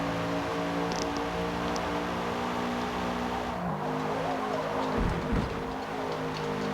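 A Toyota GR86 Cup race car is driven hard around the Homestead track: a loud, steady engine drone with shifting harmonics, a brief dip near the middle, then a swell of rumble and tire noise toward the end, with no talk.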